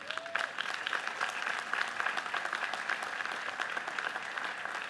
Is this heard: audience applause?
yes